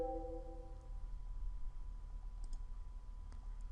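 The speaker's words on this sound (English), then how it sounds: "Left click, Edit." A couple of faint, sparse mouse clicks while working in Photoshop, soft isolated ticks over a quiet steady hum, no talking.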